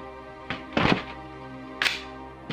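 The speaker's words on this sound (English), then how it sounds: "you essentially release the bolt" A VFC SCAR MK16 airsoft rifle has its bolt released, giving sharp metallic clacks and a solid thunk, with a few separate clicks over a faint background hum. The sounds are close and there is no talk.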